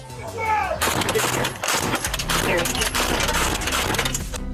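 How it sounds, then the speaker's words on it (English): Albuquerque police officers fire from the street and through a patrol car windshield in a West Side neighborhood, a dense run of loud sharp cracks and bursts filling the whole stretch. "another is shooting through the windshield of his patrol unit"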